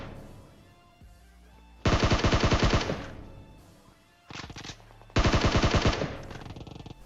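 M4 assault rifle fire in PUBG Mobile, two loud, close full-auto bursts of roughly a second each over game ambience, with a few quieter shots between them.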